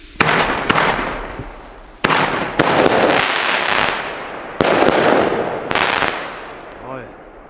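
A Weco Fantastic Four firework battery fires a run of sharp, loud bangs in several bursts, each with a crackling tail that fades, alone with no talk.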